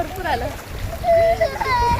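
Sea waves wash in and splash at Devka beach, a steady watery wash under close, excited voices of adults and a small child, with the talk dominating throughout.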